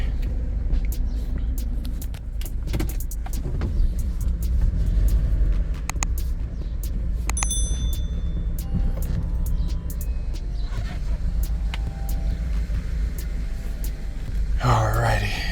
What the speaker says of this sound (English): Oh yeah, she misfiring bad.